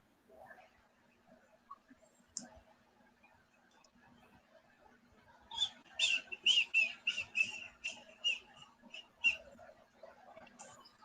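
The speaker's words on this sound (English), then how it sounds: "it sounds like somebody's whistling" A person whistles a quick series of bright, rising and falling notes in the second half. The whistling is moderately loud over a quiet room with faint background noise.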